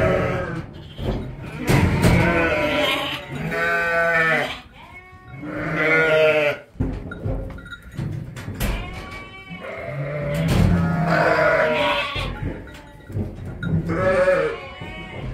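Lambs bleat repeatedly at a village farm, a string of wavering calls close by that mingle with people talking throughout.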